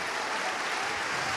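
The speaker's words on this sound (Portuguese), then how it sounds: "Vamos dar uma salva de palmas para Jesus." A church congregation gives a dense, steady burst of applause, many hands clapping together evenly at moderate volume with no voices breaking through.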